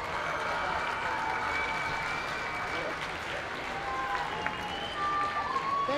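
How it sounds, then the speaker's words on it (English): Students and audience at a school district orchestra festival clap together in a hall, a fairly soft, steady wash of applause heard from a distance throughout. "will you give everybody in the audience a round of applause because they came to see you"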